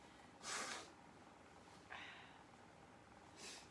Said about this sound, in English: I'm going to blow my nose here real quick.